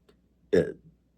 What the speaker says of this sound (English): I keep burping and sneezing